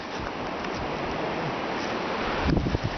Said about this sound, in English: Wind's still blowing and it's snowing